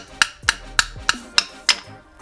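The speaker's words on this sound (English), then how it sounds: "Just hammer tap on them ever so slightly." Six sharp metallic taps of a hammer on the front brake pads of a 2006 Toyota Highlander Hybrid, in a steady rhythm, close and crisp, each ringing briefly before the next.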